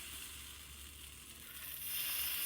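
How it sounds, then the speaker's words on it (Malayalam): Wheat flour batter hits a hot pan and sizzles, a faint, steady hiss that swells slightly louder toward the end, with no talking. "പാൻ ഇവിടെ ചൂടായിക്കണെങ്കിൽ അതിലേക്ക് ഒരു രണ്ട് തവി നമ്മൾ ബാറ്റർ ഒഴിച്ചു കൊടുക്കുക"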